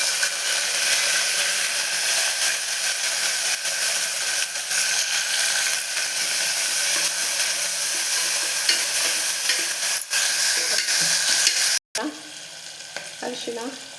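Chopped onion frying in a pan for cabbage dal, a steady broadband sizzle with stirring scrapes running throughout, dropping briefly to near silence before resuming softer.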